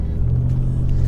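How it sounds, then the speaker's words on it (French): Aston Martin Virage V550 Vantage V8 engine, a steady deep metallic burble from the V8 held at an even, loud level throughout with no talk over it. "espèce de glou-glou hyper métallique de V8"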